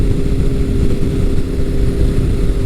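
A Kawasaki ZRX motorcycle engine with an aftermarket ART exhaust runs loud and steady close by, a deep throaty exhaust rumble holding at a constant idle-like drone.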